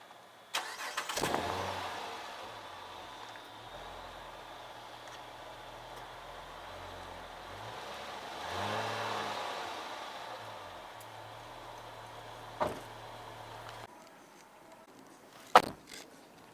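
A 2010 Chrysler 300 Signature Touring sedan cranks and fires up, settling into a smooth idle with a brief rise in revs midway, then cuts off, followed by a couple of sharp clicks or door thuds nearby.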